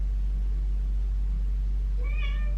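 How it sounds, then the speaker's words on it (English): A single short cat meow near the end, moderately loud over a heavy, constant low rumble. "Meow meow, it's my kitty cat."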